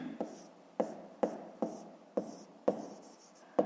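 Pen on paper while working a fifth-grade math exercise: a series of short, sharp scratchy strokes, about seven distinct marks spaced at uneven intervals, close and fairly quiet against a silent room.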